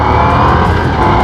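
Ducati Diavel motorcycle engine revving hard, a loud, close, sustained roar with rising pulses and no talking over it.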